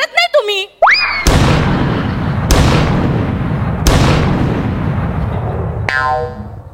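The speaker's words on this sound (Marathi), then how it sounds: "या पंचला त्याने 3 तोफांची सलामी दिली बघ" Three-cannon salute sound effect: three loud booming blasts at even intervals, each with a long rolling decay, preceded by a springy boing and followed by a brief ringing tone.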